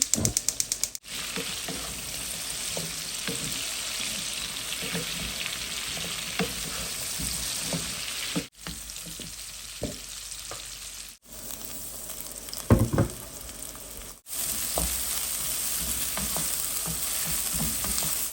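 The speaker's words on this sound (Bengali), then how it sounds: "এখন ফুলকপি আলুটা ভেজে নেব" Cauliflower and potato fry in hot oil, a dense, close crackling sizzle broken by a few brief pauses, with scattered clinks and scrapes of a utensil stirring the pan and no voices.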